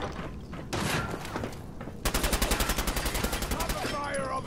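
An assault rifle fires in Fallout 4, first some scattered shots, then a fast, even automatic burst of rapid, closely spaced cracks lasting about two seconds, close and loud.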